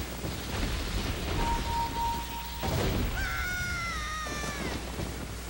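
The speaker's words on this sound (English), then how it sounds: "I didn't know I could summon thunderstorms." Thunderstorm in the video game The Legend of Zelda: Ocarina of Time, a steady hiss of rain with a dull thunder crack midway, followed by wavering musical tones; no voices.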